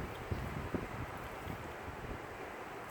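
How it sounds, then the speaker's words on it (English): Steady hot desert wind buffeting close against the microphone in a small garden on a 103-degree day, a continuous broadband rumble and rush with faint gusty thumps, no talking. "there's a steady hot wind blowing on me"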